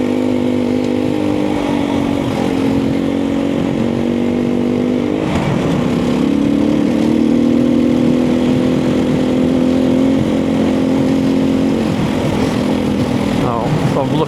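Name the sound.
motorbikes approaching on a moorland track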